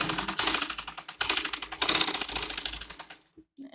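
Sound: sewing machine stitching a chanderi salwar

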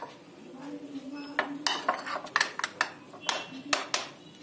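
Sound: mixing fish fry batter in a bowl

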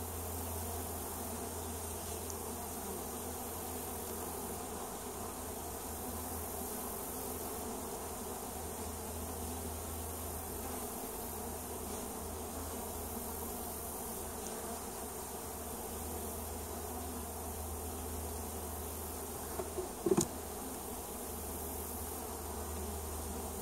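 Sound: honey bees buzzing around an open swarm hive

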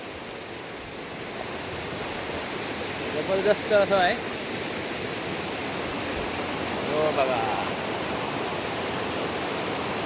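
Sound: waterfall

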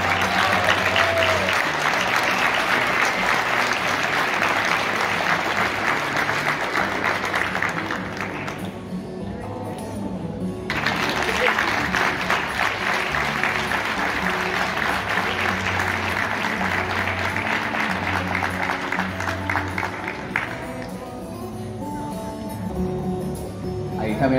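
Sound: audience applause at ceremony

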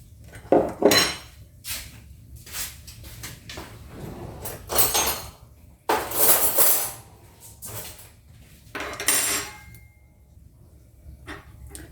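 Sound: mixing yeast with sugar, milk and flour in a bowl

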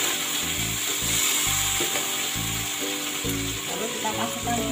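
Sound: stirring noodles with chili sauce in a frying pan

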